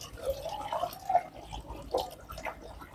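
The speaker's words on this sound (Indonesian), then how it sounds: "kita isi airnya dulu di pipa keluaran untuk memancing airnya seperti ini" Water poured into the outlet pipe of a water pump to prime it, giving soft trickling and dripping sounds with a few louder splashes, close by and fairly quiet, with no talking.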